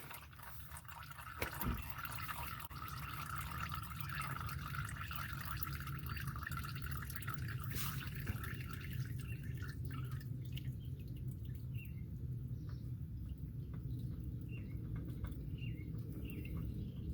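Engine oil drains steadily from a Ford Explorer into a catch pan, a continuous trickling pour that holds at an even level for the whole stretch.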